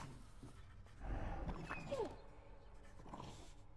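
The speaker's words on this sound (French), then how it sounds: "Petit chien." Cerberus, the giant guard dog in Hades, lets out a low, rumbling growl-roar, swelling for about a second before fading into quieter ambient rumble; fairly soft overall.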